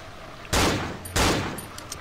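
Two loud, close bursts of gunfire in the horror game Cry of Fear multiplayer, each a sharp broadband blast with a trailing decay, spaced about half a second apart over faint background.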